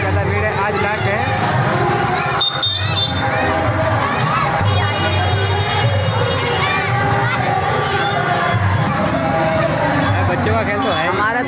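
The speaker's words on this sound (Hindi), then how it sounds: "बहुत ज़्यादा भीड़ है, आज लास्ट है।" A dense, loud crowd at a historic town fair in Lakhimpur Kheri, with children shouting and a steady babble of voices and people talking close by throughout.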